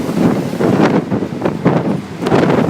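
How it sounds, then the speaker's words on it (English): Strong gusts of wind buffeting the microphone near Wellesley Island and Gananoque, Ontario, a loud low roar that surges and eases in waves, with no voices. "It's very windy."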